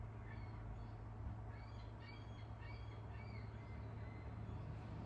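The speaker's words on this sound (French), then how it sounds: "On entend les oiseaux." Several outdoor birds call in short squawky chirps scattered across the stretch, faint and somewhat distant over a steady low background hum, with no talking.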